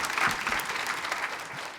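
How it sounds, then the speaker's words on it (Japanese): Audience applause for four panelists at the close of a session on food culture: a short burst of dense, steady clapping from a hall full of people, heard on its own. "4人のパネリストにもう一度大きな拍手を送ってください。"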